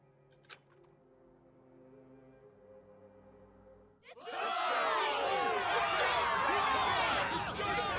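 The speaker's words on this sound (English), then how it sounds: "Yeah, crowd chanting destroy." A large crowd in the video game Danganronpa Another Episode: Ultra Despair Girls erupts into loud, dense shouting and chanting after a few seconds of quieter talk, continuing as a roaring mass of voices.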